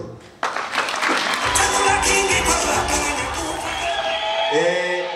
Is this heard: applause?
yes